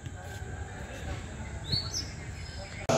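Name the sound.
black sparrow chirping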